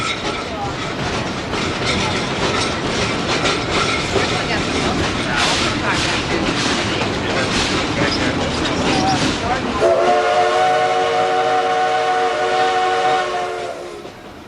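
Silver Plume tourist train running on rails, a loud steady rumble and clatter of wheels and cars that continues throughout, with a sustained horn-like tone sounding over the noise in the second half.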